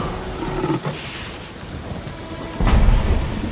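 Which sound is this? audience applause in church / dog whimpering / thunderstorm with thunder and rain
thunderstorm with thunder and rain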